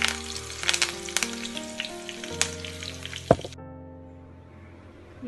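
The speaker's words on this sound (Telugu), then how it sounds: "ఇప్పుడు ఇందులోనే కొంచెం కరివేపాకు వేసుకొని ఫ్రై చేసుకుందాం" Curry leaves frying in hot oil left from cooking crispy sweet-shop style onion pakodi, a close crackling sizzle with sharp pops and clicks that cuts off abruptly, leaving a faint hiss.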